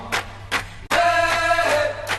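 A sample of a song plays loud and close: two short percussive hits, then a sustained, harmonically rich chord with a steady pulsing rhythm.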